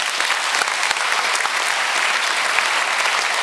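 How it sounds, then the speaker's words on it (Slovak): A live comedy roast audience in Slovakia claps steadily and loudly, a thick, even wash of applause welcoming the next roaster on stage, with no speech over it. "prosím, veľkým potleskom privítajte ďalšieho roastera, Tomáša Hudáka"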